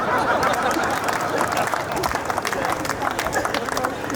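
Audience clapping at a Hindi comedy poetry (hasya kavi) show, a dense continuous patter of many hands filling the hall, with crowd murmur and voices mixed in.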